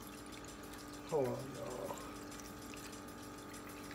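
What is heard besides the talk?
water being poured into a container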